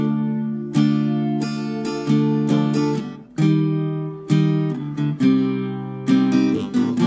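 Acoustic guitar strummed through a sequence of chords for a song demonstration, each bright strum ringing out and decaying before the next in an irregular rhythm, played alone without singing or talk.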